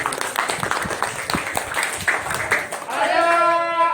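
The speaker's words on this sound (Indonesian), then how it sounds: "tepuk tangan buat Amira dan Putri." Students in a classroom give a short burst of scattered hand clapping mixed with voices, which gives way to a person speaking.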